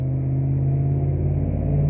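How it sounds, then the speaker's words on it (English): A loud truck passes close by, a steady low engine rumble and drone filling the whole stretch without a break. "Loud truck."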